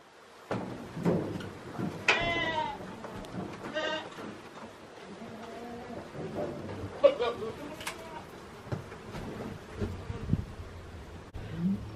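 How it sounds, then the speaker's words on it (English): Several goats bleat loudly at close range inside a horse trailer, with scattered bumps and shuffling between the calls. "I'm gonna kick the goats out of here."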